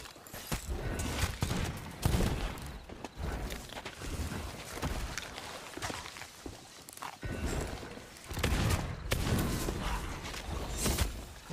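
Ship cannons in the Sea of Thieves video game fire in repeated booming blasts, some in quick clusters, at a fairly low overall level with no voices heard.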